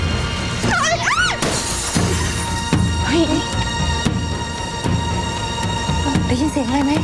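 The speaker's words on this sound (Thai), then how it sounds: "เสียงเหมือนแก้วแตกอะ ดังมาจากห้องข้างๆเนี้ย" Glass breaking in an adjacent room: a sharp crash and scatter of shards, slightly muffled by the distance, rings out early and is followed by lingering rattles and other sounds within a dramatized scene.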